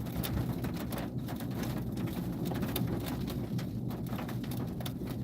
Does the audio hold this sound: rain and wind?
yes